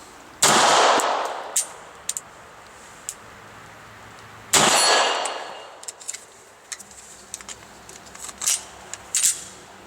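A Beretta 8000 L Cougar pistol fires two loud, sharp shots in double action at a steel target 25 yards away. Each crack rings out with a long decaying tail, separated by a few seconds and followed by small metallic ticks and clicks.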